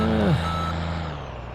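A Dodge truck in Farming Simulator 17 sounds its reversing beeper, a steady electronic tone over a low engine hum, with a short vocal sound at the start.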